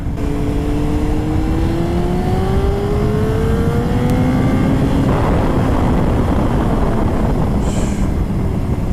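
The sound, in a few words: 2002 Honda CBR954RR motorcycle accelerating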